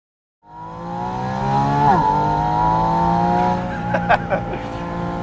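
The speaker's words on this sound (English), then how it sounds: "The 500 horsepower engine from the 911 GT3 for one thing." A Porsche Boxster Spyder RS with the 500 hp 911 GT3 engine revs hard close by, a loud rising howl that shifts pitch around the middle, then eases with a few sharp pops near the end.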